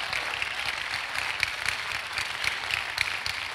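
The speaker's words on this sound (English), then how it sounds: "I don't even know why you are clapping" Congregation at a church service clapping steadily, a dense, even wash of applause from many hands filling the room throughout, moderately loud with no voices on top.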